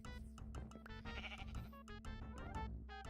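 Sheep in the Minecraft video game bleat repeatedly in quick, tonal bursts, loud and close, with a steady hum beneath.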